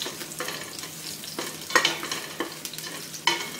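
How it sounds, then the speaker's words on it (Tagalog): Garlic fries in hot, boiling oil, crackling steadily while a utensil stirs and scrapes the pan in several sharp, close strokes. "mix the garlic, stir"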